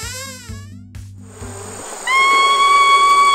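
Buzzing bees as a sound effect in a Hungarian children's story, a loud insect drone that starts under a rhythmic musical pattern and then swells into a sustained, wavering buzz.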